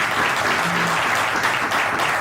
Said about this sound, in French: on l'accueille quand même avec des acclamations